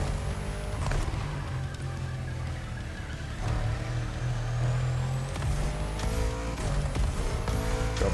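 Bugatti Centodieci hypercar racing in The Crew, its engine droning steadily with gear shifts and brief braking, loud and continuous with no talking.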